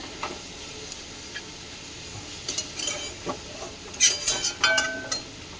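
Whole garam masala, cloves, cinnamon, cardamom, dried chilli, cumin and bay leaf tempering in hot oil in a pan, a soft steady sizzle with brief crackling pops growing louder toward the end, close, no talking.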